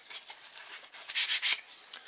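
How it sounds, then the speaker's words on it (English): Sandpaper rubbed along the rough edges of a polystyrene glider with a chopstick frame, a close, soft scratchy rasping in short strokes that swell briefly louder near the middle. "while I've got the sandpaper out, I could actually sand the"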